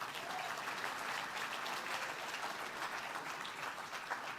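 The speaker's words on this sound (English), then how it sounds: "Another round of applause for James Bain." An audience at a Texas Bankers Hall of Fame awards ceremony claps steadily, a dense, even wash of applause from a large room that holds at a constant level throughout.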